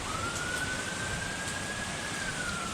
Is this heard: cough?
no